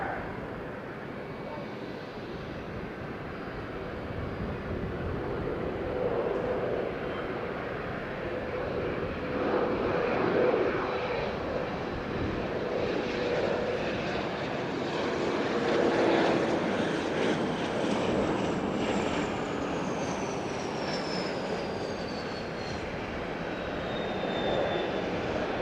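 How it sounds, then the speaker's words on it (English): A Kawasaki T-4 trainer jet flies in at Fukuoka airport, its broad engine roar holding steady and fairly loud for the whole stretch, with a faint high whine sweeping downward near the end. "There's a Kawasaki T4 trainer."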